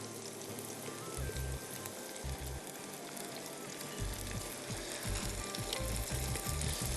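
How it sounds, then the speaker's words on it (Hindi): Kashmiri red chili paste fries in a pan for Thai-style prawn rice, giving a steady, dense sizzle with low stirring scrapes and bumps throughout. "इसको अच्छी तरह भूनिएगा बिकॉज ये कच्चा है।"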